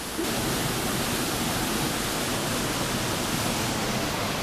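Waterfall at Pala-U in Hua Hin roars as a steady, dense broadband rush of falling water, loud and close throughout with no voices over it.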